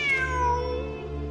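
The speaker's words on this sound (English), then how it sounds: "Wait, there it is! The cat!" A cat meows in Genshin Impact, one clear, close, drawn-out meow that slides down in pitch and fades, with no voices present.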